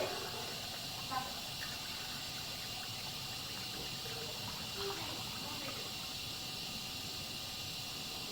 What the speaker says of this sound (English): See if we get a gush of water.